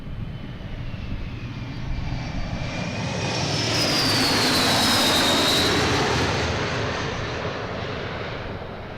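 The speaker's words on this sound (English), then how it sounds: "Oh, here's a plane coming behind me. Alright, Delta E-175, flight 5600, coming in from" A Delta Embraer E175 regional jet arriving at Boston Logan swells into a loud, close engine roar with a rising whine, peaking mid-pass before easing off.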